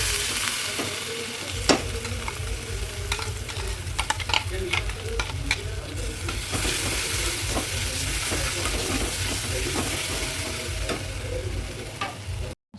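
Tomato-onion gravy fries and sizzles in a pan with ginger-garlic paste and curry leaves, a steady loud crackle with occasional stirring scrapes throughout, no voices.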